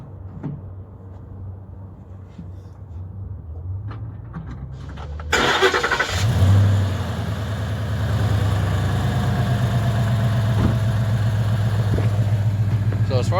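A stock 2013 Ford Mustang sits quietly until its engine cranks and catches about five seconds in with a loud rev, then settles into a smooth, steady idle.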